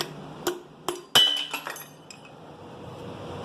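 Metal-on-metal hammer strikes on the piston of a D16Z6 engine, three sharp ringing clinks at a slow, irregular pace followed by a few lighter taps and a fading metallic ring.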